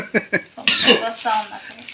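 Two quick coughs up close, followed right away by someone speaking.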